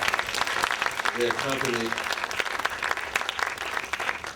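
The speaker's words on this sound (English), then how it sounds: "Let's give them a round of applause." Audience applause for the Clark Atlanta University Mighty Marching Panthers banner carriers and drum section rises under a speaking voice, with scattered claps throughout at moderate level.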